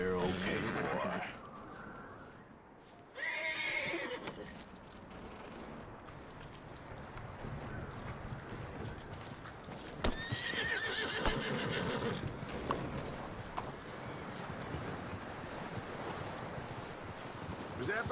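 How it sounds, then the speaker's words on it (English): A horse in the Red Dead Redemption 2 video game whinnies, then its hooves clip-clop steadily, with tack jangling, while a voice talks over parts of it. "That looks like a decent horse."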